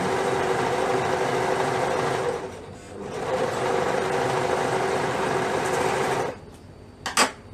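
Sewing machine sewing a sleeve onto a PJ top, loud and close, running steadily for about six seconds with a brief dip midway, then stopping with a few clicks.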